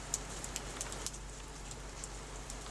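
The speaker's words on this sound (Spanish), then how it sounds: "Llueve." Light rain falling steadily, a soft even patter with a few sharper drips standing out, faint and distant with no voices.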